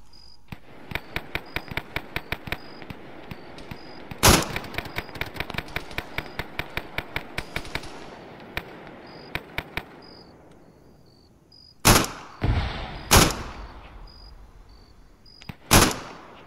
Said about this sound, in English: Shooting at me, though.